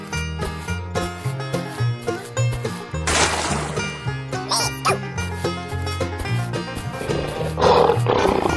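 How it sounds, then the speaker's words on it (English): A lion roars over a rhythmic music backing, with repeated growling roars building in loudness toward the end, and a splashing burst in the middle. "Lion."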